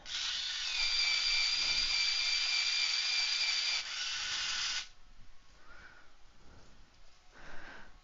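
A pencil being sharpened for a fine point: a loud, steady whirring grind runs for about five seconds, then gives way to faint rustling and light scraping.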